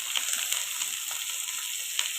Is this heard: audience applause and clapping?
no